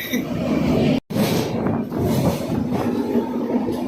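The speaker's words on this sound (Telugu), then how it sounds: "బ్రిడ్జ్ మీద ఉంది ఇంకా ట్రైను" A train rumbles and clatters steadily close by as it crosses a bridge, a loud continuous roar that cuts out for an instant before resuming.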